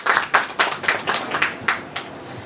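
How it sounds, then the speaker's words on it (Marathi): Audience clapping at a music launch event, a short burst of applause with distinct, fairly loud hand claps in an uneven rhythm that thins out toward the end. "एकदा जोरदार टाळ्या त्यांच्यासाठी झाल्या पाहिजे."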